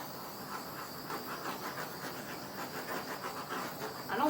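A torch hisses over an acrylic puddle pour, a soft pulsing rush of gas flame that comes and goes in short bursts, fairly quiet with no talking.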